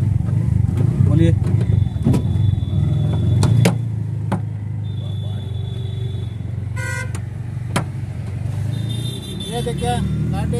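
A Bajaj auto rickshaw running in a newly engaged gear on the road: a steady low engine drone throughout, with scattered horn toots and traffic sounds nearby and people talking over it.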